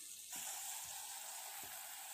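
A steady, faint bubbling hiss of country chicken curry simmering in masala in a pan, with a few soft stirring clunks underneath.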